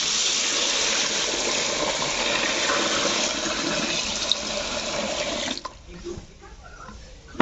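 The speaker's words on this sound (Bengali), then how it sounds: "আমি এখানে বড়ি দেওয়ার জন্য আগে ডালে জল দিচ্ছি।" Water pours steadily onto lentils (kalai dal) in a kitchen as they are set to soak for homemade bori, a continuous close gush that stops abruptly, leaving a few faint clinks and quiet handling sounds.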